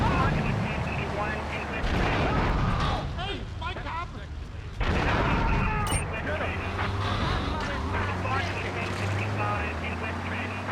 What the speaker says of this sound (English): just chucked a grenade though